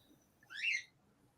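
A single short, harsh bird call rings out about midway, bright and fairly close, with quiet background before and after.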